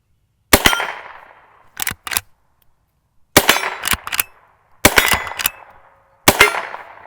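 Five sharp, loud gunshots from a Henry lever-action rifle firing high-velocity Remington Golden rounds outdoors, each report trailing into a brief echo, with quieter clacks of the lever being cycled between shots.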